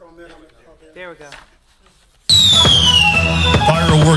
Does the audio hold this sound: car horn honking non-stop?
no